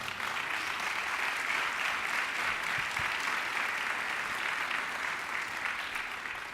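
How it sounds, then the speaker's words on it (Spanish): Sustained applause from a conference audience at a national tourism forum in Mexico, steady and dense clapping throughout, moderately distant, with no voices over it. "le demos un fuerte aplauso a los empresarios"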